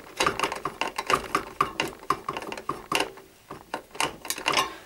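Tightening the mount of an Arctic Cooling Freezer 7 Pro CPU cooler produces a close series of sharp ratcheting clicks in a quick, fairly regular rhythm, with a brief pause midway.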